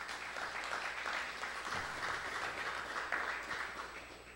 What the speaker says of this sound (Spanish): ¿Cuántos aplauden el nombre del Eterno?